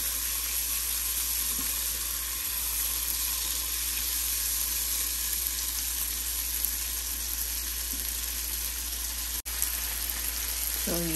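Cherries stirred into chicken rice sizzling in a pan with ginger garlic paste, a soft steady frying hiss with a few faint stirring scrapes, fairly quiet and alone without speech.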